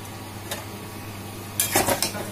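Meat is stir-fried in a pan with meat masala, a soft steady sizzle running under a couple of quick scraping stirs of a utensil against the pan.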